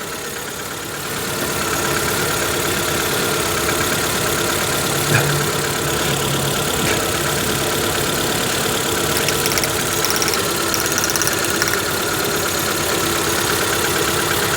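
The engine of a Proton Wira car runs hot and misfires, giving a loud, steady idle with an uneven, knocking roughness throughout and no talk over it.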